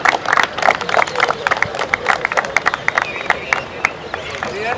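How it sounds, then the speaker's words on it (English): Applause rises from a crowd at a football league opening ceremony, steady overlapping claps and crowd murmur filling an outdoor space, fairly loud and continuous with some cheering underneath. "A big round of applause for Mr."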